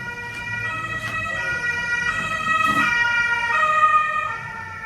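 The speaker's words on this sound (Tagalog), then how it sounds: "ambulansya o pulis na patro. Or ambulansya siguro yun." A wailing ambulance siren, steady and fairly loud, cycling through its tones as it passes at moderate distance, with faint traffic underneath.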